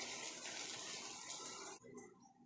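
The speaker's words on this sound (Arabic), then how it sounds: "وابتدي احط المية، مقدار المية هو مقدار الرز" Water pours steadily into a pan of rice for a couple of seconds, a broad continuous gushing splash that cuts off abruptly, followed by quieter trickling and settling.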